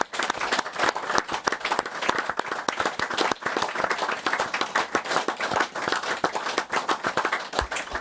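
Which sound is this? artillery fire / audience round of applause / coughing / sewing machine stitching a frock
audience round of applause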